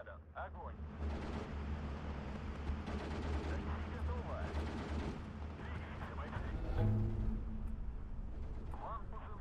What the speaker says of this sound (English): We'll start smacking these with artillery shots.